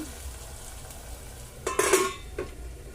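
Mutton frying in a pan for bagara rice: a soft, low sizzle, then a brief burst of scraping and clinking as a utensil stirs the meat, followed by a short second scrape.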